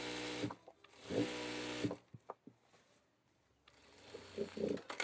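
Sewing machine stitching a shirt, running in short bursts of steady whirring, stopping for clicks and knocks between runs, then starting again near the end.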